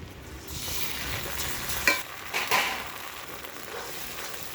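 Coriander-cumin paste fries in a duck curry cooked over a wood stove, a soft steady sizzle broken by a few sharp scraping stirs near the middle, close and without speech.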